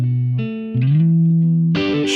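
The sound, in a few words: room reverb on clean electric guitar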